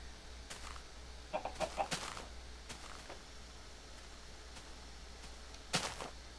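Chicken clucking in a Minecraft world, a few faint quick clucks scattered over a quiet background, with a brief sharper sound near the end.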